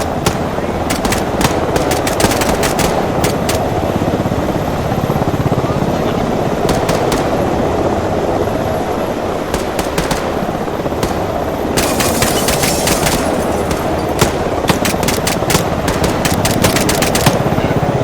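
Rapid gunfire in ARMA 3 during a vehicle-shooting drill: repeated short bursts of sharp cracks in clusters over a loud, constant rumble like an engine or rotor, with occasional voices mixed in.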